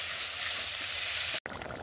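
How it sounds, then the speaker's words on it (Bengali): Curry poured into hot oil, a loud steady sizzle and hiss close up that cuts off abruptly near the end, then a softer, choppier crackle continues. "এবার তরকারিটা ঢেলে দেবো।"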